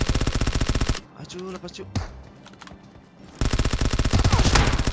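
A Vector submachine gun fires rapid full-auto bursts in PUBG Mobile, loud and close, with a pause where someone speaks briefly before the fast rattling fire resumes.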